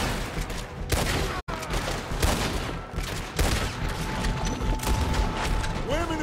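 Gunfire rattles through a Red Dead Redemption 2 gang shootout, rapid overlapping shots and a mechanical clatter over a loud, dense battle din, with shouting voices in the mix.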